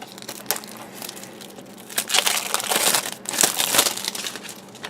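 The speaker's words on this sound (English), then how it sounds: "let's go ahead and get the plastic out of the way" Plastic shrink wrap crinkles and tears as it is peeled off a Metal Gear Solid V The Phantom Pain Day One Edition game case, close and fairly loud, building into denser crackling bursts.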